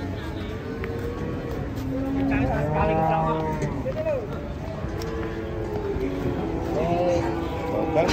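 A cow mooing repeatedly while being unloaded from a truck, long low drawn-out calls close by, with people talking around it.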